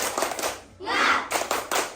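A primary school class performs a rhythmic spirit clap as an ice breaker, bursts of group clapping in short patterned beats with a pause in the middle, mixed with children's voices chanting along.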